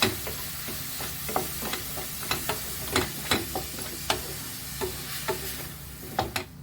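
Onions frying in a pan for Mumbai street-style pav bhaji, a steady sizzle broken by repeated sharp scrapes and taps of a spatula stirring, close and clear, with no talk.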